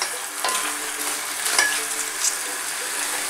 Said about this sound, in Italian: Andiamo a dare una rimestata